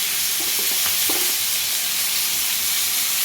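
Crab pieces coated in salt and turmeric fry loudly in a pan, a dense continuous hiss and sizzle with a few brief stirring knocks near the start.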